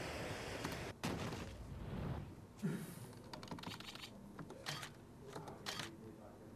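Computer keyboard typing clicks faintly and irregularly over a low noisy background, with a few sharper isolated taps during a game livestream.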